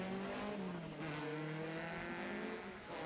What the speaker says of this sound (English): Michael Rosa heading towards us now in one of the plethora of Mark I Cortinas that we have here this weekend